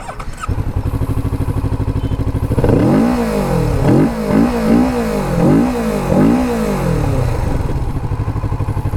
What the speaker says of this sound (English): So that's the stock exhaust, sounds so good in my opinion